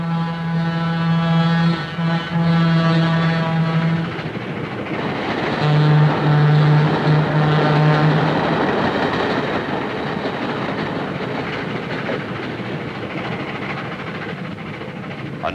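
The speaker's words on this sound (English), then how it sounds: "A familiar example of the Doppler effect is the drop in pitch that accompanies the passing of a rapidly" A rapidly moving train passes close by with a loud rumbling roar, its sustained horn tone dropping sharply in pitch as it goes past, followed by steady clattering wagon noise fading on.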